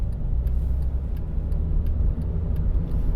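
Car engine pulling away from a roundabout on a busy road during a driving test, a steady low rumble building speed with faint periodic ticking, close and continuous with no voices.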